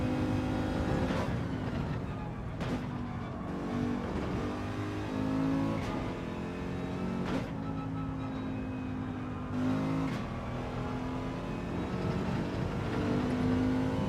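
A race car engine in Gran Turismo 7 drones with a steady tonal note, punctuated by several brief shifts and dips in pitch as it changes gears, loud and close, with no talking.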